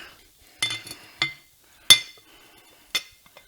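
Metal parts of a Harley Softail derby cover being handled, several sharp clinks and clanks spaced apart, close and clear against near silence.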